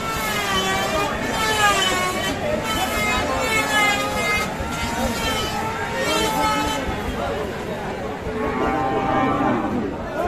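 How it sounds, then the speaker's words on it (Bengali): Cattle, including large bulls for sale at the Khochabari livestock market, moo repeatedly over a busy background of crowd chatter and occasional vehicle horns, with people talking nearby throughout. "আর সে বড় বড় গরু দেখছি আজকে"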